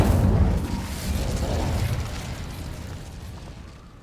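Incendio fire spell cast in Hogwarts Legacy, a loud booming fiery burst with rumbling eruption that swells again briefly and then fades out.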